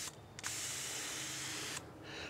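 A Titan Control Max 1900 airless sprayer gun releases pressure with a steady, fairly loud hiss of spraying water lasting over a second, then cutting back to a fainter hiss.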